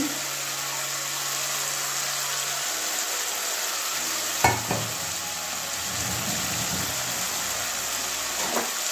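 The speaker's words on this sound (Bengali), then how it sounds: "এবারে সিদ্ধ করে রাখা গুগলিগুলো দিয়ে দিচ্ছি।" Boiled snails (gugli) go into a pan of spices cooked down in oil, with a steady loud frying hiss and a couple of brief clatters from the pan partway through.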